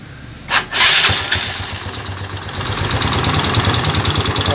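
A Yamaha Mio Sporty scooter engine cranks with a harsh, rattling whir from a worn, noisy starter gear, then catches and settles into a steady, close idle that runs on without pause.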